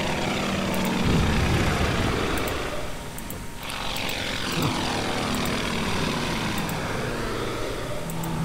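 A propeller fighter plane in the wartime strategy game Order of Battle drones loudly and steadily, its engine roar holding constant with a brief dip partway through.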